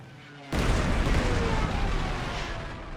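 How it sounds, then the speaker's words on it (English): A dive bomber attacks a KV heavy tank in the strategy game Panzer Corps 2, delivering one sudden loud explosion that bursts in after a quiet half second and rumbles on, slowly fading. "I need to dive bomb this heavy tank here"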